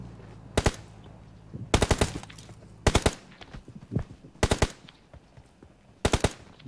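Bursts of rapid automatic gunfire in the video game PUBG Mobile come in short volleys, several separate rounds spaced a second or so apart, loud and close with quiet gaps between.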